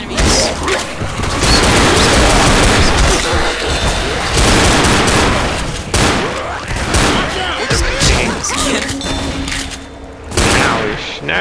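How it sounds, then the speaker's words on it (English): Heavy, continuous gunfire from the Left 4 Dead video game rattles almost nonstop at close range, with dense overlapping bursts and booms that barely pause throughout. "Now you're shooting somebody."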